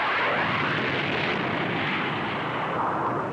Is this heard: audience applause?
no